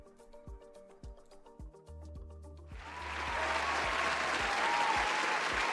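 Applause breaks out partway through, rising from a few scattered claps after some brief speech into sustained, dense clapping from an audience that continues to the end.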